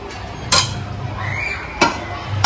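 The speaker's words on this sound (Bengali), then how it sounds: "এটা একটু হালকা হাতে মিশিয়ে নেব।" Squeezed onion is mixed lightly by hand in a bowl, with soft stirring and shuffling broken by two sharp clinks against the bowl.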